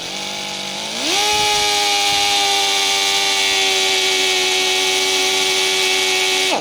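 A Matco low-speed power drill with a Turbo Max bit whines up to full speed and holds a loud, steady high-pitched drone as it bores a pilot hole.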